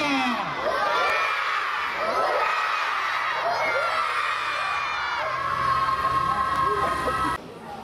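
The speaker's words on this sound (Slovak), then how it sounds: "zakričať z plných pľúc 3-krát hurá!" A crowd of schoolchildren at an outdoor school games event yells hooray three times at full volume, each loud burst of shouting from many young voices followed by cheering and whoops.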